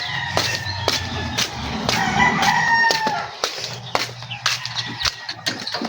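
Labuyo jungle fowl, including a hen, crow and cluck nearby, with sharp repeated clucks and a longer crowing call mixed with low rustling in the background.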